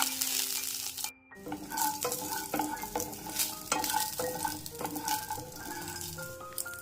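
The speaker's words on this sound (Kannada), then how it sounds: "ಇದಕ್ಕೆ 1 ಸ್ಪೂನ್ ತುಪ್ಪ ಹಾಕ್ಕೊಂಡು ವಾಲ್ನಟ್ಸ್ನ ಸೇರಿಸಿ ಇದರಲ್ಲಿ ನಾನು ಹುರ್ಕೊತೀನಿ" Walnuts roasting in a spoonful of ghee in a pan, with a soft sizzle under repeated scraping stirs and light clinks of a spoon against the pan, close up with no voices.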